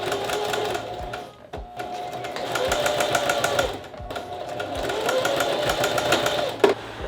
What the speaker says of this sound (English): sew these 2 pieces together right here on the curve at 3/8 of an inch seam allowance